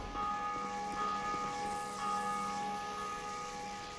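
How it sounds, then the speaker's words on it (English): A church-style bell tolls in Dark Souls 2 after the Belfry Keeper is defeated, its sustained ringing tones layered and steady over a low game ambience, with no talk. "Ring the bell."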